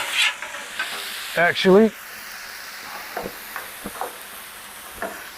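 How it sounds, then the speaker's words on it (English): Cheesesteak filling is mixed on a hot griddle: steady sizzling with a few scraping stirs, cut briefly by a short spoken word near the start. "We're just going to mix this up."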